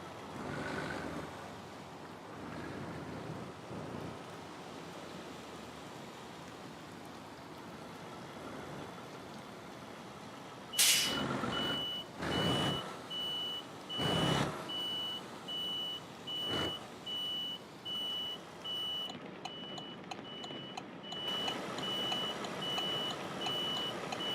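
Euro Truck Simulator 2 truck setting off, a quiet engine rumble with several distinct thumps and bursts partway through, then a steady low drone with faint repeating beeps near the end, no talking.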